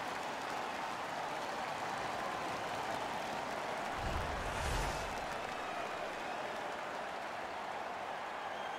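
Arena crowd noise from an NHL 15 hockey game: a steady, loud roar of spectators that swells into a brief cheer partway through, then settles back to a constant wash.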